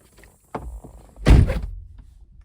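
A single solid thunk as the door of a Chevrolet Camaro 2SS with a 6.2L V8 swings shut, preceded by a smaller knock, close and fairly loud with a short decay.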